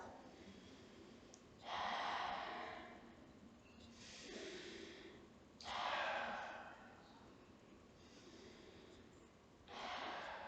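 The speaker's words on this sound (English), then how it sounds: "I'm going to take 3 deep breaths into my belly to make sure that I'm in a calm space" Three deep breaths taken slowly one after another, each a loud, airy inhale-exhale about four seconds apart, close to the microphone with quiet gaps between them.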